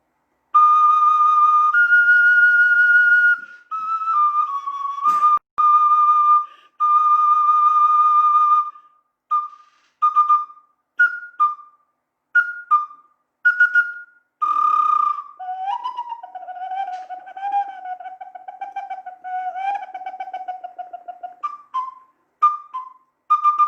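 A sazsyrnai, a Kazakh clay wind instrument, plays high bird-like whistled notes close up and alone, first in long held tones, then in short separate phrases with pitch slides.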